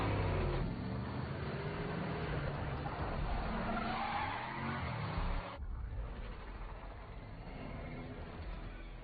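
A car tears away at speed with tires skidding and squealing in a chase scene from the film The Adam Project, loud and continuous with an abrupt cut partway through.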